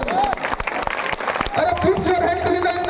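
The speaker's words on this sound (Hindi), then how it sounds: "एक बार जोरदार ताली हो जाए" Loud crowd applause and cheering at an outdoor Kali Puja festival concert with Maithili rap, clapping mixed with shouts and a host's amplified voice over the noise.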